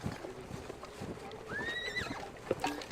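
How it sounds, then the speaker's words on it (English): Horses whinny and hooves clop in the Campaign Waterloo video game, with a rising neigh over a busy bed of distant galloping and battlefield noise. "All I see are tons of horses coming at me."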